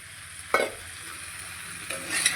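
Ginger paste frying in hot oil in a pan while a spoon stirs it, with a steady low sizzle and two louder scraping stirs near the start and end, close and alone without talk.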